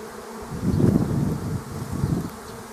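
A swarm of honeybees that settled near an apiary buzzes in a dense, continuous drone, swelling louder twice as the insects stir close by.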